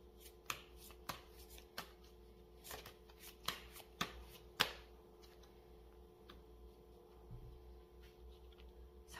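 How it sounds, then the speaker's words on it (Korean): Tarot cards are shuffled by hand to draw an advice card: a series of crisp, close riffling snaps and slaps, with quieter handling in between. "여러분을 위한 새로운 조언 카드 한 장 뽑아드리겠습니다"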